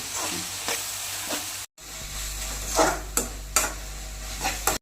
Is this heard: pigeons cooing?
no